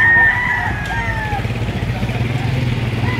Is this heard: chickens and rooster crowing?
yes